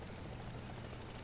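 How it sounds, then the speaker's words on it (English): Helicopter rotor thudding close by in War Thunder gameplay, a steady low rumbling drone with gritty noise across the whole second, no talk over it. "We have a chopper close."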